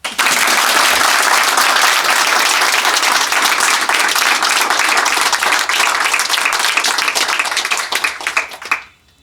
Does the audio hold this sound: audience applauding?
yes